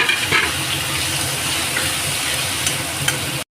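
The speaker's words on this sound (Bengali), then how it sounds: "পেঁয়াজ এখানে ভাজা হচ্ছে।" Onion paste fries in a wok, a loud, steady, close sizzle with occasional stirring scrapes, cutting off abruptly at the end.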